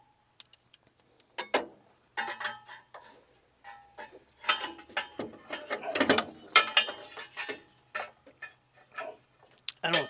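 A ratchet cranks a seized Chrysler Slant Six engine, giving irregular bursts of clicking pawl and clanking metal up close, with brief pauses and movement sounds between pulls.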